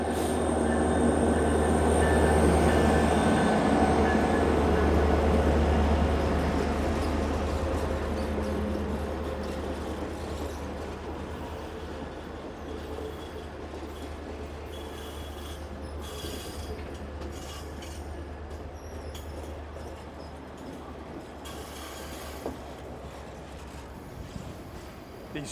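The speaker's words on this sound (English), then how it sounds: "Beautiful sight, Alaskan Railroad." An Alaska Railroad train rumbles past with squealing wheels and a low droning engine, loud at first, then fading steadily into the distance.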